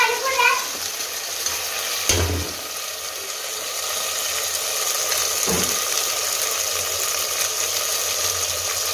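Pav bhaji masala spices frying in hot oil in a pan, a steady close sizzle throughout, broken by two brief scraping stirs of a spoon.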